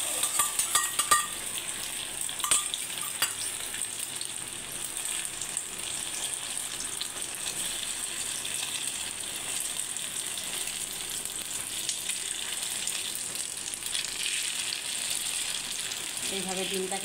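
Egg frying in a pan: a steady, fairly quiet sizzle runs throughout, with a few sharp utensil clinks and stirring scrapes early on and near the end.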